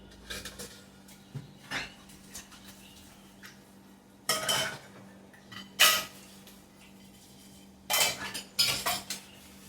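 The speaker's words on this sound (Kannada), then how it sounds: "ಪಾತ್ರೆ ತೊಳೆಯುವ ಬನ್ನಿ" Dishes, pots and pans being washed in a home kitchen, with scattered clinks and clatters of metal utensils and cutlery that come in a few louder bursts over quiet stretches, heard close and alone.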